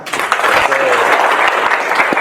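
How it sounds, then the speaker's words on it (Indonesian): A class of students applauds during a shot put lesson, a brief burst of close, lively clapping with a teacher's voice briefly heard under it. "Ya, benar, tepuk tangan."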